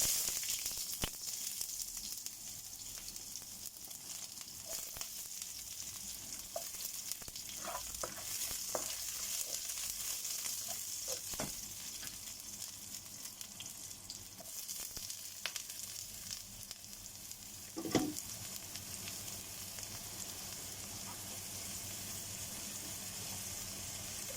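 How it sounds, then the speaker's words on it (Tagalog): Aromatics sauté in a second frying pan abroad while a snakehead fish dish in coconut milk is cooked, giving a steady close sizzle with occasional stirring scrapes and one louder clank near the end. "magigisa na tayo dito sa kabilang kawali"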